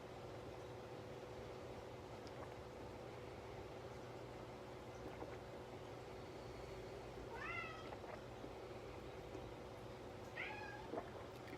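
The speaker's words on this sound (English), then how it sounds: "And there's my cat." A house cat meows twice, short and fairly faint, above a steady hum of indoor room noise.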